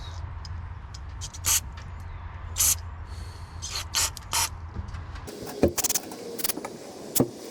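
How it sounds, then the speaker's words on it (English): Several short hissing bursts of carburetor cleaner spray on a Honda Accord, some brief and some longer, come close by over a low engine-like hum that cuts out partway. "let's just start spraying carb cleaner"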